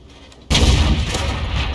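The Dicker Max's 105mm tank gun fires in a video game as one sudden, loud, meaty blast, followed by a rumbling tail of reverberation.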